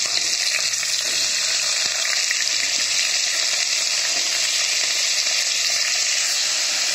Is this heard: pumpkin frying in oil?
yes